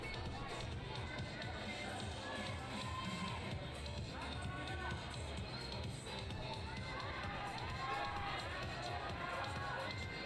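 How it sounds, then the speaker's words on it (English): Spectators at a youth world championship climbing lead semi-final in Central Saanich cheer and shout encouragement for a Japanese athlete, a dense continuous crowd roar with individual cries and commentary mixed in. "Cries of Gamba from the crowd as our next athlete on female youth B starts off for Japan."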